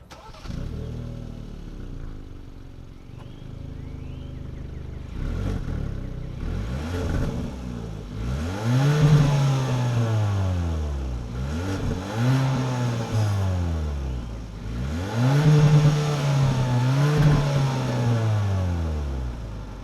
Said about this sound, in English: center mounted exhaust, and it sounds pretty good too